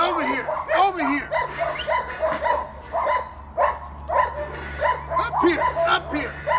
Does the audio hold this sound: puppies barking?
yes